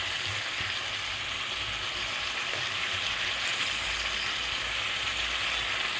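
Chicken being sautéed in a pan with cumin, chili and ginger paste, a steady, even sizzle and hiss that continues throughout without a break.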